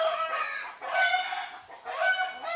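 Chickens on a farm near a sugar apple plant: a rooster crows in repeated drawn-out calls mixed with clucking hens, fairly close and loud, with no talk over it.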